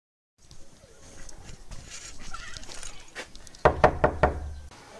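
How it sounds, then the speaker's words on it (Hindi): Knocking on a wooden door at a rural home, four sharp close raps in quick succession near the end, after a stretch of quiet background noise. "दरवाजे खटखटात रहे?"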